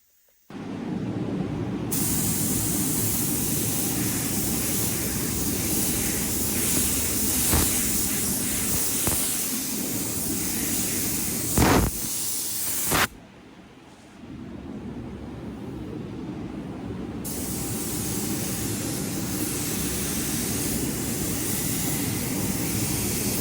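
Durafil C9500 clear coat being sprayed with a spray gun, a steady close hiss that runs nearly continuously, briefly cuts out around the middle, then resumes.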